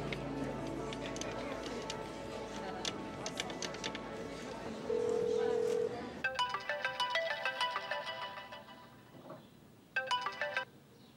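A telephone ringtone sounds in repeated electronic bursts, loud and close, after a stretch of people talking over background sound.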